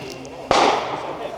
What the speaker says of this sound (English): Shotgun was absolutely dope.